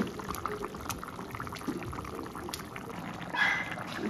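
A fish head goes into a pot of bubbling curry, giving soft liquid splashes and a steady simmering hiss, with a brief louder splash near the end.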